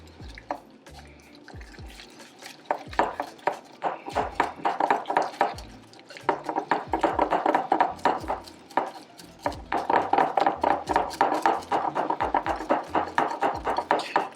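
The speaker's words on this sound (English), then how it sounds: "we're going to whisk together the ricotta cheese and the egg and the Parmesan" Whisking ricotta cheese, egg and Parmesan together in a bowl for lasagna filling, a steady run of quick, close clicking strokes against the bowl that pauses briefly and resumes, with no talk over it.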